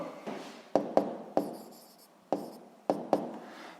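Pen writing a physics answer by hand on paper: soft scratchy strokes with several sharp taps in an irregular rhythm, close and quiet, alone.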